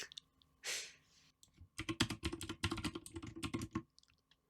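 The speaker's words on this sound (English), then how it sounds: "Clicky clacky keyboard." A clicky keyboard in The Sims 4 clacks in a quick run of crisp keystrokes after a soft whoosh, close and fairly quiet, with no talk.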